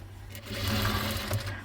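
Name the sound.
sewing machine stitching a designer bedsheet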